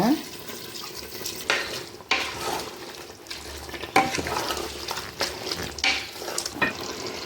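Liquid is poured into a cauliflower biryani mixture in a cooking pot, with wet splashing and stirring scrapes in short uneven bursts at close range.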